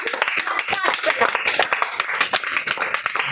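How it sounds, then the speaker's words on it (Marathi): Children clap their hands in a free class at a government school, celebrating a test result. The clapping is quick, uneven and fairly close, with an adult talking over it throughout. "चल टाळ्या वाजव."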